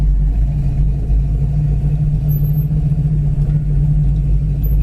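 1966 Ford Fairlane engine running steadily with a deep, loud low rumble while the driver works through the gears, no voices over it.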